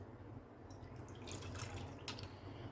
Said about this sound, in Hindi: इस तरह से हम इसे पानी में डिप करेंगे।